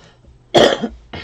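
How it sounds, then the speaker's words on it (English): One sharp, loud cough bursts out, followed by a softer second cough, in an otherwise quiet room. "I don't know why I keep coughing like that"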